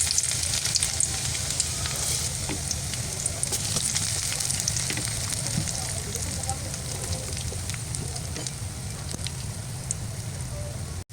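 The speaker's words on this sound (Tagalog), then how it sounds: "Magigisa na po ako ng bawang at sibuyas para sa spaghetti sauce." Garlic and onion sauté for spaghetti sauce, sizzling steadily and loudly in a pan from start to finish, with occasional stirring scrapes and a faint voice under the frying.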